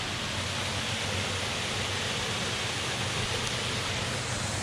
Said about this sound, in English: We've got a tiny little Nebraska waterfall.